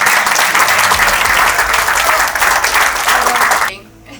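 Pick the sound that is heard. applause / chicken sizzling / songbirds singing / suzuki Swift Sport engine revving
applause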